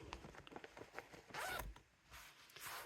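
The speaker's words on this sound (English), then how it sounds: "there's a zipper in the side here" A zipper on the side of a bag is pulled in a few short tugs, then one longer quick zip, close and quiet, with soft handling rustles between.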